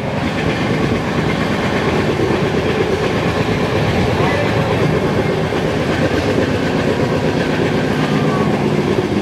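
Loud, continuous rumble of the 12377 Sealdah–New Alipurduar Padatik Express speeding along the rails at 110, a dense steady roar with clattering wheels throughout.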